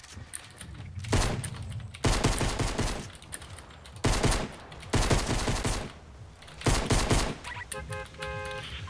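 Video game gunfire rattles in sharp bursts, four or five loud volleys separated by brief lulls, with small electronic beeps near the end.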